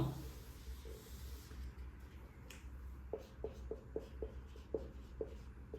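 A p-type semiconductor diagram is drawn on a board in a quiet room, giving a string of faint, short tapping strokes at an irregular rhythm over soft background hiss.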